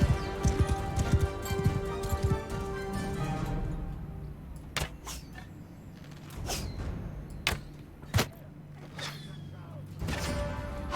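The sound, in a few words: horse galloping in Mount and Blade Bannerlord video game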